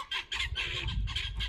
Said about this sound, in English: you can really hear the racket of the guineas. They're really making a lot of noise.